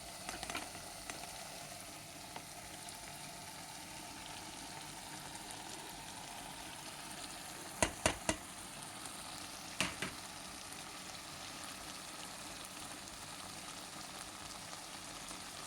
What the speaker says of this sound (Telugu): ఇప్పుడు మసాలా కూరిన వంకాయలు, ఇవి మసాలా కూరని కదా, ఇవన్నీ వేసేసుకుంటాను